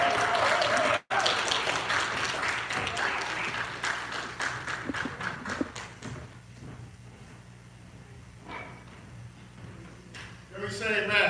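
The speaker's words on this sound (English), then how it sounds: "Can we give a round of applause one more time?" Church congregation applauding after a sermon: dense, steady clapping for about six seconds that thins out and fades, with voices murmuring underneath.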